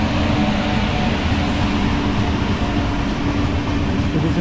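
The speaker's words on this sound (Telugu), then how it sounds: "ఇదిగోండి వ్యాప్ 7 లోకోమోటివ్." A WAP-7 electric locomotive hauls a train past near Tenali–Vijayawada. A loud, continuous rumble of wheels and rails holds steady throughout.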